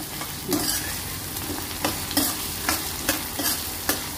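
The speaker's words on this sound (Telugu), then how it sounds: "అల్లం వెల్లుల్లి పేస్ట్ అడుగంటకుండా ఇలా కలుపుతూ ఉండాలి" Ginger garlic paste fries in a pan over a medium flame, with a steady soft sizzle and repeated spatula scrapes and stirs about every half second, close and moderately loud.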